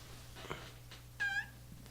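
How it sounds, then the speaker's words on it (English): A chair gives a single short squeal that rises and bends like a cat's meow, preceded by a couple of faint creaks in a quiet room. "the chair sounds like a cat"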